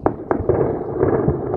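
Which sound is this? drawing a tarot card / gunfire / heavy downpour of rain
gunfire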